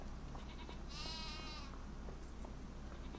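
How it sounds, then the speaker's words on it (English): A single sheep bleats in Farming Simulator 25, one wavering call lasting under a second over a steady background hum. "And the sheep are doing goodly."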